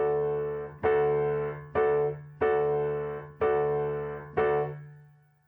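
Six piano chords sound in a syncopated comping rhythm, each struck clearly and left to ring until the next, heard close and alone, with the final chord fading out.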